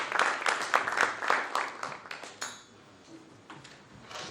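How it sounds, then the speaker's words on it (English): Applause from a conference audience for Arman Tatoyan and Artak Beglaryan at an annual meeting, a dense patter of clapping for about two seconds that thins and fades into quiet room tone with a few scattered last claps. "Let's give a round of applause for these two."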